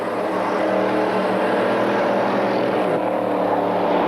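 Race car engines drone steadily and loudly at Mont Tremblant as one car passes another, gets loose and is repassed, a continuous buzzing roar from on board with no speech.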